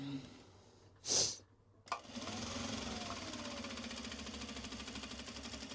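A sewing machine stitching fabric for Japanese fabric accessories or bags hums in a steady, rapid mechanical whir after a short breathy sound and a click, continuing close and even to the end.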